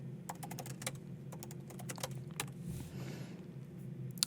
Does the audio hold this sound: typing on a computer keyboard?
yes